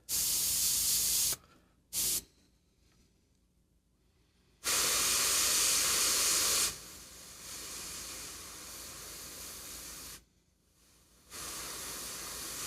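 An airbrush sprays contrast paint onto a Kingdom Death Black Knight miniature in several hissing bursts, some loud and close, one softer and longer, separated by short near-silent pauses.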